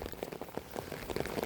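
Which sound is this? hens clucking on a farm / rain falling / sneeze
rain falling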